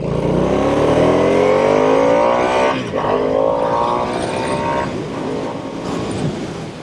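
A Harley-Davidson Nightster motorcycle accelerating hard, its engine note climbing steadily through the gears, loud and close, with a brief shift break before the revs rise again.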